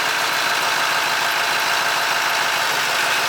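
A car engine runs after a jump start from a Viking 2000 amp jump starter, a loud, steady, even drone that continues without pause through the whole stretch with no voices.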